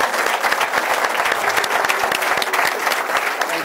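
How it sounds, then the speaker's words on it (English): An audience at an evening Berkeley district candidate forum applauds the candidates, a dense, steady wash of many hands clapping close and loud throughout, with no talk over it. "let's have a round of applause for our candidates"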